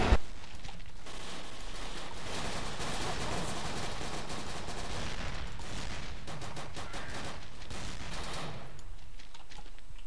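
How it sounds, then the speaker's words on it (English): Sniper rifle and other weapons firing in the dinosaur World War II shooter Dino D-Day, a dense, continuous barrage of gunshots that runs throughout, loud and close, with no talking. "Let's try out the sniper"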